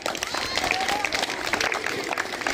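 A crowd of schoolchildren claps at a village school quiz, a dense burst of fairly close applause with voices mixed in.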